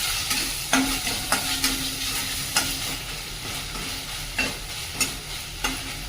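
Tomato ketchup sautéed in a pan before crumbled idli goes in: a steady frying sizzle broken by regular spatula scrapes and taps, close and fairly loud, no voices.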